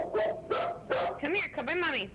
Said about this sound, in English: That's a strange reaction to be barking so aggressively